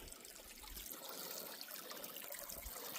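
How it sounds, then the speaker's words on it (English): Water trickles and splashes steadily over a small waterfall in a creek, a faint, continuous burbling flow with no voices. "Nice little waterfall just there."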